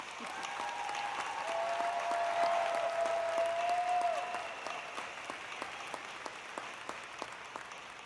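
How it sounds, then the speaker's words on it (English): Graduates and guests at a college commencement ceremony applauding in a large hall, a steady moderate wash of clapping that swells and then tapers into scattered claps, with a faint whistle-like tone briefly above it. "please join me in giving them a round of applause, one of many"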